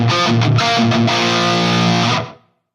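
A rhythm guitar riff is played with crunch distortion through a Marshall JCM800 into an impulse-response cabinet, thick and saturated with choppy palm-muted stabs. The loud, sustained tone cuts off cleanly after about two seconds.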